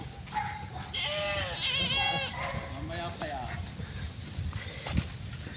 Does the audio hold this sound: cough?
no